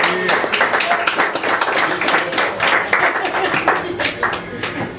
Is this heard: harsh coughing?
no